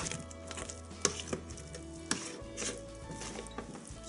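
A potato masher works through boiled potatoes for perogies, with soft, irregular close thuds and squelches and the occasional knock against the pot.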